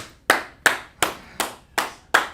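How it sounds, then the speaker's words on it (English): Six sharp, evenly spaced claps ring out one after another for a student in an online language class, each a crisp close slap with a short decay and no talking. "Clap it up for her."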